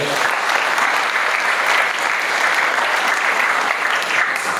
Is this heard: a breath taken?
no